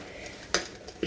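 A spoon stirs curd in a bowl for lassi, giving two sharp clinks against the vessel over a faint steady background, with no talking.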